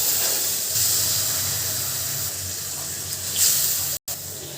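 Spice paste added to frying onions in a pan, giving a loud continuous hissing steam sizzle that swells briefly near the end and cuts out for a moment, with no speech.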